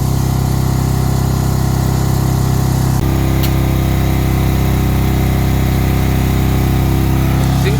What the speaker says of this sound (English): Got the motor running.